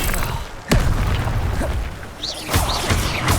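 An Incendio fire spell cast in the Hogwarts Legacy video game: a sudden sharp burst followed by a roaring, crackling whoosh, with further bursts and flaring rushes, loud and dense throughout.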